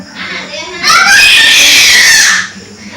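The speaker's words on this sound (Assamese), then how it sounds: "ইমান জোৰকে চিঞৰিছে কেলে?" A child screams loudly and shrilly at close range, one sustained high-pitched shriek lasting a couple of seconds after a moment of quieter sound.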